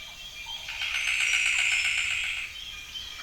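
A bird sings from a branch in an Australian forest, a bright run of rapid high notes that swells for about two seconds and then fades, with faint forest ambience around it and no talking.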